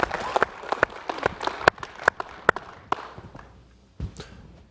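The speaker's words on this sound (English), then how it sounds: "let's give him a round of applause for putting that together" An audience at a theatre's annual meeting gives a short round of applause, a burst of scattered clapping from a modest crowd that thins out and stops after a few seconds.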